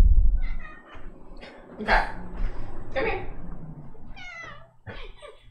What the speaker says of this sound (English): We're miking the cat.